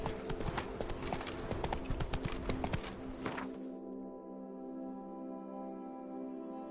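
Roach the horse gallops in The Witcher 3 DLC, a rapid, loud clip-clop of hooves for about four seconds that then gives way to a steady hum.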